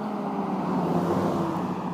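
A truck drives off steadily after running over an Arrma Limitless RC car, its broad engine and road rumble continuous and fairly loud through the whole stretch, with no talking.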